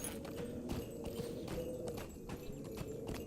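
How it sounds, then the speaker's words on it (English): A horse's hooves clip-clopping on a path in the online game Lord of the Rings Online, a steady, quiet rhythmic trot of regular hoofbeats over a constant background hum. "So let's get on our horse and let's go down to the pathway"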